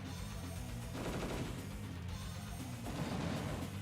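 Artillery fire in the Advance Wars: Dual Strike video game, a sustained burst of booming, crackling blasts with a second volley building near the end, loud and with no talk.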